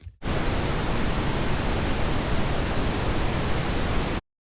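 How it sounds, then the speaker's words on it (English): A steady, broadband hiss of pink noise plays at constant level for about four seconds, then cuts off abruptly to silence. "As you can hear, it kind of sounds like pink noise."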